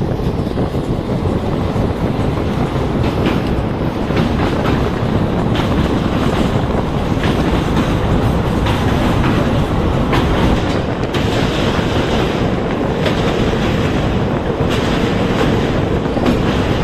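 Pinakini SF Express passenger train running on rails between Vijayawada and Chennai, a steady loud rumble of wheels with faint rhythmic clickety-clack and wind buffeting throughout.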